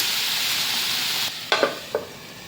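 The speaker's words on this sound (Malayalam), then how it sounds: "ആദ്യം ഹൈ ഫ്ലെയിമിൽ ഒരു മിനിറ്റ് നല്ലോണം ഒന്ന് ഇളക്കി കൊടുക്കുക." Okra fries on a high flame in a pan with a close, steady sizzle, followed by a few quick scraping stirs as the sizzle drops away.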